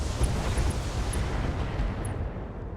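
Ultra AC-20 autocannon and medium lasers firing in the BattleTech game, a loud continuous rumbling barrage of blasts and bursts that stays dense throughout, with no talk.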